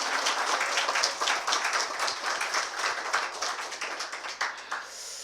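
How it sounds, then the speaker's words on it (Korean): A church congregation at a revival service applauds in welcome, many hands clapping together in a rapid, moderately distant patter that thins out and fades toward the end. "박수를 한번 환영해 주시죠"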